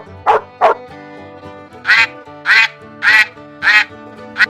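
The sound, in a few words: duck quacking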